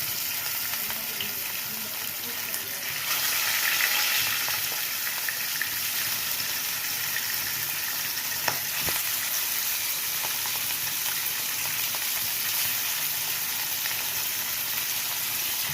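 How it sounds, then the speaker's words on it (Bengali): Katla fish pieces coated in salt and turmeric fry in hot mustard oil in a kadai, a loud continuous sizzle that swells as more fish go in, with occasional sharp spatters. "কড়াইতে তেল গরম হয়ে গেছে এবার নুন হলুদ মাছগুলো একে একে দিয়ে ভেজে নেবো"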